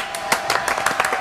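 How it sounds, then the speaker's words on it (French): A French TV studio audience claps, with dense overlapping hand claps forming short, lively applause heard close and fairly loud throughout. "Applaudissements pour Faisal."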